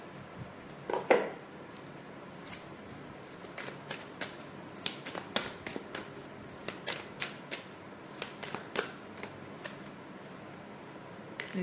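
Oracle cards riffle in a shuffle, then a long series of soft, crisp flicks and slaps sounds as cards are handled and drawn, close and quiet, with no talking.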